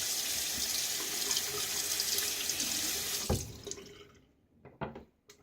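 Tap water runs steadily into a sink while a razor is rinsed during a wet shave, a close rushing stream that stops partway, leaving a few drips and light clinks.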